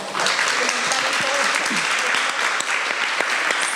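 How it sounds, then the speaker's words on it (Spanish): Audience at a talk on women and HIV breaks into sustained applause, a thick continuous clatter of many hands with a few voices faintly underneath. "yo les quiero pedir un aplauso para Tobar y para Ronnie"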